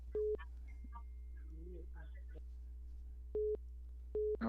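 Phone-line tones on a live radio broadcast: steady beeping bursts, three short repeated tones, over a constant low hum, with faint talk in between.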